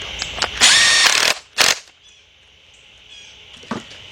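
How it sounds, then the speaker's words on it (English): A 13mm deep socket tightening bolts on a Chevy Equinox engine during a head gasket and timing chain rebuild, heard as a loud burst of power-tool whirring followed by a second short burst, then quiet with faint clicks. "let's get our 13mm deep socket and tighten up both bolts."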